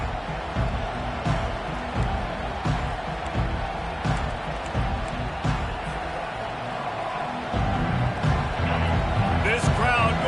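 A college football stadium crowd roars continuously at a Georgia versus Clemson game, a dense wash of distant cheering and noise under an announcer's commentary.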